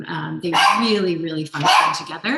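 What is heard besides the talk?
dog barking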